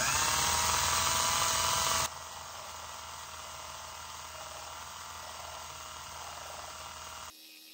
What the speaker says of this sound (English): First time actually using the lathe.